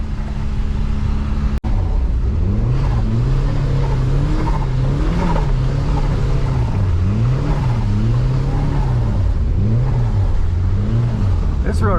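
A turbocharged Mazda Miata with the top down accelerates hard along an unplowed snowy road, its engine loud and close, revving and surging through repeated rises and dips with a sharp click near the start.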